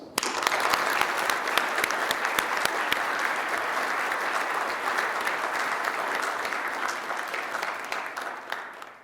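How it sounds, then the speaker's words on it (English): An audience at an EcoCAR EV Challenge awards ceremony claps loudly and continuously for about nine seconds, with dense overlapping hand claps that fade out at the end. "let's pause and give all of yourselves a big round of applause"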